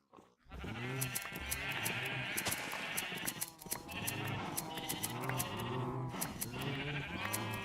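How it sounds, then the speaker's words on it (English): Sheep in Minecraft, played with the Cobblemon mod, bleat over and over in a dense, overlapping chorus, as from a large bred flock, steady and fairly loud throughout with no talking. "They've bred all those sheep for the purpose of making beds."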